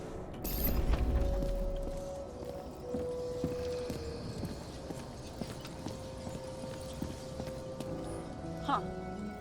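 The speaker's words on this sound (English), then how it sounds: "Sarah, that's a horse." Horse hooves clip-clop at a steady walking pace in the video game Nobody Wants To Die, moderately close and set against ambient game sound, with a faint whinny-like flourish near the end.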